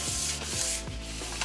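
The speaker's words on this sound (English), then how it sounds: "I'll just go ahead and grease this a little," Greasing the inside of a tube cake pan makes soft, rhythmic rubbing strokes, about four brushing sweeps close up, with no voices.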